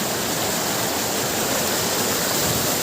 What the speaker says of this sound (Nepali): हामी चाहिँ झरना आइपुगिसकेका छौँ।